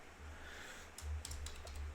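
A folder name typed on a computer keyboard: a short quiet pattern of light key clicks closing out the moment, over a low steady hum with no one speaking.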